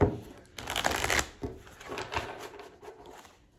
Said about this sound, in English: let me give it a bit more shuffle here for you